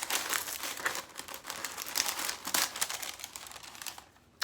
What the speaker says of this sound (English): I really don't want to tear the paper